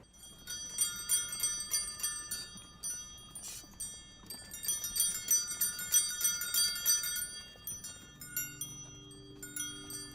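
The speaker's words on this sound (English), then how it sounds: "hear the bells, the horns, or the whistles that made it known that a street vendor was near" Bright metallic bell tones ring repeatedly in uneven bursts, close and fairly loud, with no voices, like a handheld vendor's bell being shaken.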